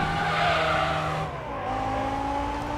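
Race car sliding with oversteer out of a corner in Gran Turismo 4 Prologue, a sustained skid and tire squeal over a loud engine note that dips in pitch partway through and then steadies.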